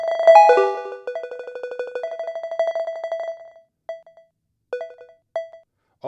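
A WhatsApp notification chime plays from a computer monitor in a room: a quick cluster of bright electronic tones, then a run of repeated beeps, then a few isolated pings spaced apart, fairly loud with no talking.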